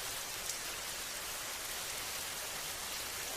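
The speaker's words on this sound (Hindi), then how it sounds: "आसमान में जोर जोर से बिजली कड़कने के साथ बारिश चालू हो जाती है" Steady, dense rain in a cartoon scene hisses evenly for the whole stretch, loud and unbroken, with no thunder clap or voices standing out.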